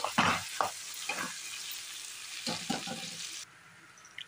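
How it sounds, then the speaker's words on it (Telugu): Diced potatoes frying in a pan with half a spoon of cumin and raw peanuts for aloo palli fry, a close hiss with bursts of stirring scrapes near the start and again midway. "ఈ విధంగా ఫ్రై అవుతున్నప్పుడు దీనిలోకి మనం ఒక 1/2 స్పూన్ జీలకర్ర, 2 టేబుల్ స్పూన్లు పచ్చి వేరుశనగకాయ గింజలు వేసుకొని వేయించుకుంటే"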